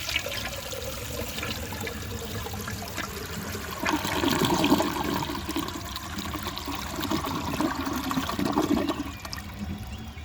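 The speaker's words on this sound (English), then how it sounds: "This toilet has a really awesome flush." A 1973 Eljer Hi-San low tank toilet flushes with a strong, continuous rush of water that swells midway, then settles into a steady draining gurgle, close and loud with no talking.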